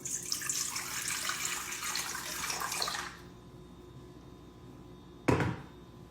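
Warm water runs steadily from a kitchen tap for about three seconds while preparing sourdough tortillas, then stops, followed by a sharp knock near the end.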